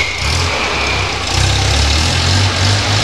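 A UAZ Bukhanka van's engine idles up close, a loud steady low rumble with an even throb and a slight rise in intensity partway through, heard on its own with no talking.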